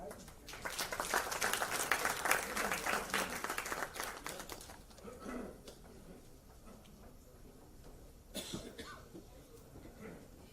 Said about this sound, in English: Now let us give a hearty round of applause to Mr. Umesh Doshi